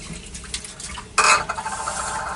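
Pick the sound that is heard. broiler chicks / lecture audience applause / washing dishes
washing dishes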